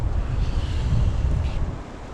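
Steady wind rushing and buffeting against a microphone at an evening campfire, a continuous low roar with no voices.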